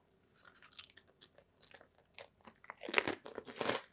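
Crunching bites into a pork rind loaded with keto cannoli dip, several sharp close crisp crunches that grow louder toward the end, with no talking.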